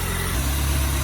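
Toyota AE86 engine running with a Weber carburetor, idling in a clean engine bay: a steady, low, even drone close by, no misfire or stumble, and nobody talking.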